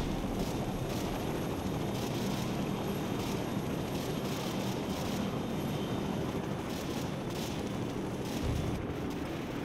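A helicopter's engine and rotors roar loud and unbroken in the video game Call of Duty 4, a dense rumbling drone with no voices.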